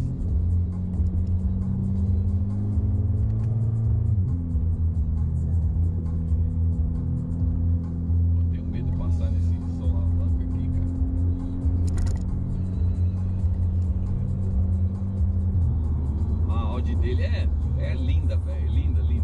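Audi A3 2.0 turbo, stage 3 tune at 400 hp, rumbling steadily at close range. The engine pitch drops once, and scattered crackles and pops from the exhaust follow.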